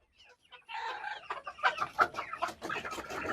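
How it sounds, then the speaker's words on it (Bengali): Egg-laying village hens clucking nearby after rain, a burst of overlapping throaty clucks and short calls building in loudness over a few seconds, with no talking. "এখন ডিম পাড়া মুরগিগুলো ছেড়ে দেব,"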